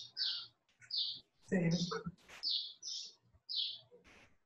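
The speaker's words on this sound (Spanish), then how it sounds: "se le escuchan los pajaritos" Small birds chirp outdoors, picked up through an open microphone during a meeting: a quick series of bright, separate tweets, moderately near, with a voice speaking briefly in between.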